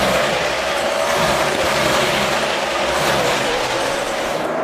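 NASCAR stock car engines roar steadily at the Watkins Glen road course during the Finger Lakes 355, a continuous loud drone of racing cars with a hint of crowd noise beneath.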